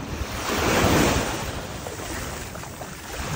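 Sea waves wash onto a beach early in the morning, a loud surge swelling and receding, with heavy wind rumbling across the microphone.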